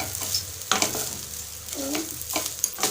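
Food fries in a pan while being stirred, with a close, continuous sizzle broken by a few sharp scraping clinks of the spoon and a soft voice-like murmur in between.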